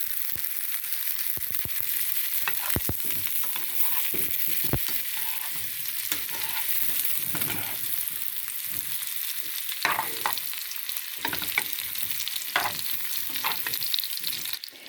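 Potatoes with garlic and dill fry in oil with butter added, giving a dense, continuous crackling sizzle with scattered sharp pops and scraping stirs, close and fairly loud.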